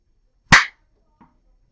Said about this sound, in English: how fast is the ball moving when I clap my hands?